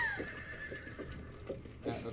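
A horse neighs in a quiet, drawn-out whinny with a few faint hoof clops, heard as a sound effect while a rig is pulled over near a campsite.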